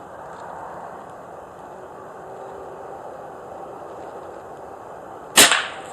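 A single sharp air rifle shot cracks out near the end during a hunt at about 20 metres, taken standing, after several seconds of quiet outdoor background hiss.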